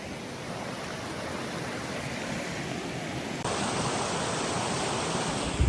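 A mountain stream rushes past close by, a dense, continuous broadband roar of flowing water that holds steady throughout and swells slightly louder partway through, with no voices over it.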